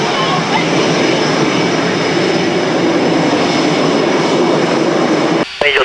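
A Blue Angels jet taxis out toward the runway, its engine a loud, steady roaring whine heard from inside the aircraft, continuous throughout and cut briefly by a click near the end.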